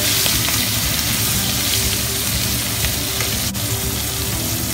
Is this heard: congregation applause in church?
no